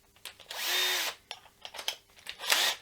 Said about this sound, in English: Here we have a drill bit, and here we have a drill.